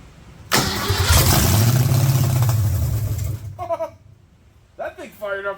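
A Ford 5.0 small-block V8 cranks briefly and fires up, settling into a loud, steady idle close by for about three seconds before cutting off, followed by short bursts of nearby talk.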